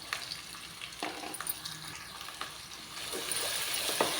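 Mustard seeds, chopped onions and green chillies fry in hot oil for an egg curry, giving a steady, close sizzle with faint crackles and spoon clinks throughout.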